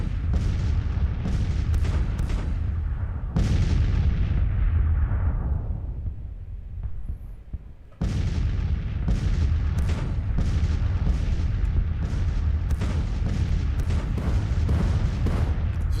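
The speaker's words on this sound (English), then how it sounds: "We've got plenty of artillery ourselves." Civil War artillery in the video game Grand Tactician, with cannon fire booming repeatedly against a dense rumbling battle din, shots landing at irregular intervals, a brief lull in the middle, then a steady barrage of loud sharp reports resuming.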